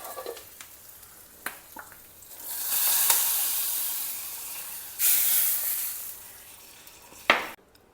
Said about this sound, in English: I like to add another pinch of hing to the ghee and add a few curry leaves to it.